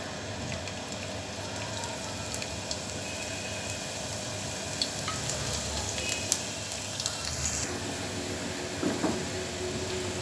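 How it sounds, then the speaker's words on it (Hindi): Finely chopped garlic frying in hot oil in a frying pan for a tadka, giving a steady, dense crackling sizzle throughout with a few brief louder pops near the end. "तो ऑयल के गर्म होते ही हम इसमें डाल देंगे ये 1 टीस्पून बारीक कटा हुआ लहसुन है"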